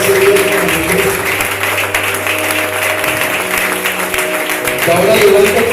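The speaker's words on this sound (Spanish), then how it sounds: "Regálale un aplauso a ese Dios maravilloso." During an evening church service the congregation keeps up loud applause while a pastor's voice speaks over it and keyboard chords ring underneath.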